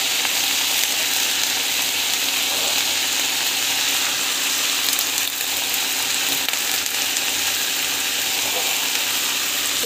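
Lentils sauté in a pan with a dense, steady sizzle and crackle that holds at an even, fairly loud level throughout, close by, with no voices.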